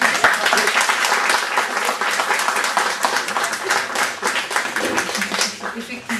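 Audience applause at an association meeting in Aulnay-sous-Bois, steady dense clapping filling the room for several seconds, loud and continuous with some voices mixed in.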